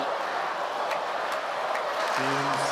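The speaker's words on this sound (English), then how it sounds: "And the crowd has come alive for Olga as well" Tennis spectators at a United Cup 2024 match between Marketa Vondrousova and Olga Danilovic chant for Danilovic, a steady dense crowd roar with sustained voiced chanting rising clearly near the end.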